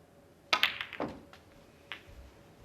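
A snooker cue striking the cue ball at the Crucible, followed by a few quick clicks of balls colliding in a quiet arena, with a softer knock a moment later.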